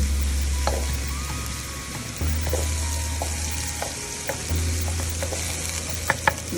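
Lemongrass sizzles steadily in a hot pan for turkey larb, a continuous frying hiss with occasional stirring clicks and scrapes near the end.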